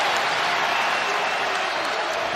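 A sold-out crowd of about ten thousand fills a college basketball arena with a dense, loud, continuous roar of cheering and applause.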